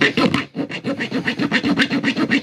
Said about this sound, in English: I'm going to attempt to see how hard it'd be to saw on this